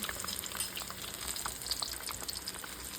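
Eggs frying lightly in a pan on a gas stove, a steady soft sizzle with faint crackles running throughout, close and even, with no voices.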